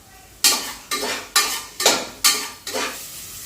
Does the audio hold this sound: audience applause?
no